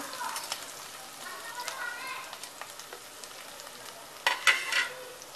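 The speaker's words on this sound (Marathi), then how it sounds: "छान परतून घ्यायचं आहे हा कांदा मऊ पडेस तर थोडासा वाफवून घेऊया" Onion sautéing in a pan for an Agri-style egg bhaji with coriander gives a faint, steady sizzle broken by soft spatula stirs, then a louder clatter of scraping near the end.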